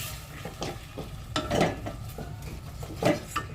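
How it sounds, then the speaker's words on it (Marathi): A spoon stirs washed moong dal and tomatoes in a pan with a light sizzle, giving several scraping strokes against the metal at an uneven rhythm, close and moderately loud. "आता त्याला हलवून घेऊया"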